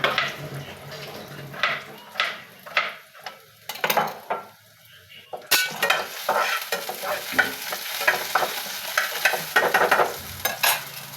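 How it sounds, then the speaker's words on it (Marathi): Onions frying in a pan for a potato dish with a steady sizzle, punctuated by repeated spoon scrapes and stirring clatter close by. "इथं आता कांदा भाजायचा चाललाय बटाट्याच्या भाजीसाठी"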